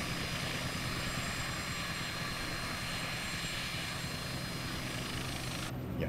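A helicopter flies over the Cliffs of Moher, its engine and rotor giving a steady, loud, continuous drone heard from inside the cabin, with no talking.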